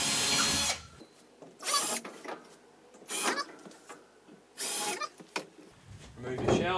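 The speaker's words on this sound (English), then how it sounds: "drill a hole" Power drill boring holes into a linen cupboard panel for shelf clips, three or four short loud bursts of drilling separated by quieter handling noise, close up.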